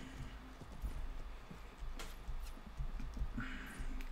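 Horse hooves clip-clop in steady rhythm in Mount & Blade: Warband, a dense medieval battle soundscape with galloping and ambient clatter, no talk.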